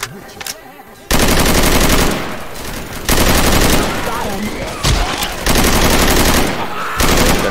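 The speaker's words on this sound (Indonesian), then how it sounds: "Taking the machine gun." A machine gun in Left 4 Dead 2, loud sustained bursts of rapid automatic fire broken by short gaps, dense and close, with players talking in places.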